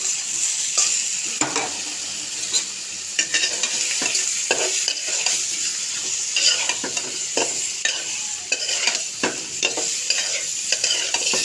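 Taro being cooked with fish in a hot pan, a close steady sizzle and fry broken by repeated scraping stirs of a utensil against the pan, with no talking.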